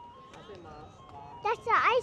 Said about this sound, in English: That's the ice cream truck.